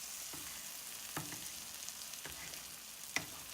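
Mushroom butter masala sizzles softly in a pan while a spoon stirs it, a few quiet scraping strokes and a light tap over a low, steady fry, with no voices.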